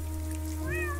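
A cartoon cat meows once in the Poptropica video game, a clear rising-falling cry set over a steady low game music hum.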